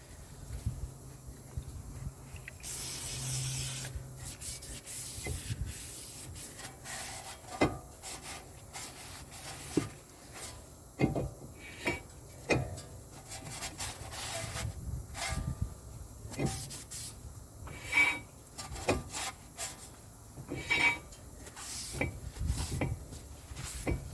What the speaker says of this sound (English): I like to turn the rotor and clean any excess of lubricant that I may have left on the rotor with a brake cleaner.